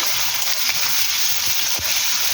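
Half a spoonful of garlic paste fries in a pan over already-fried onions for chicken kosha, making a continuous, dense close-up sizzle with no pauses.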